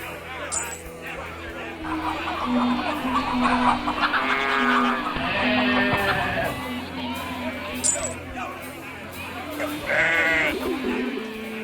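Sheep bleat repeatedly amid a busy crowd, with people talking and calling out over the livestock noise.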